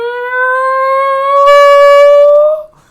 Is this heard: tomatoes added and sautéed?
no